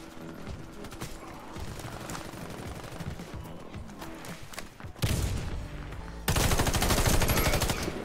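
Gunfire in the shooter Warface lands headshots in rapid, dense bursts of automatic shots. The fire swells louder and more continuous toward the end.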